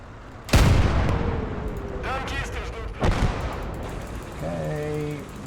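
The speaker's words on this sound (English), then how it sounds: "we're getting some damage from that artillery, but not a great deal" In a war strategy video game, artillery fires in heavy booming blasts, two big impacts a few seconds apart with rumbling tails, followed by a tonal in-game sound near the end.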